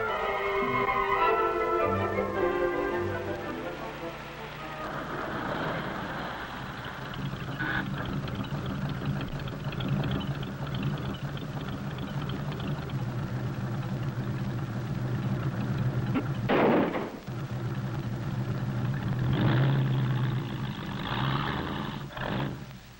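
A jalopy hot rod engine roars through a race, a continuous loud rumbling drone with revving surges and a sharp burst near the end, heard alone without talk.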